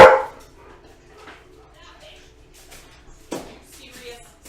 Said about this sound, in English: Oh, they're just barking.